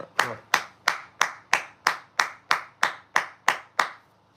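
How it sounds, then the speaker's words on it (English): One person claps their hands about a dozen times in a steady, even rhythm, each clap sharp and close. "You just got an applause from me"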